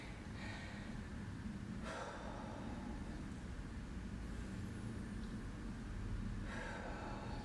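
Deep breathing during a workout's breathing exercise: two slow, long, airy breaths, one inhale around two seconds in and another near the end, over a continuous low rumble of background noise.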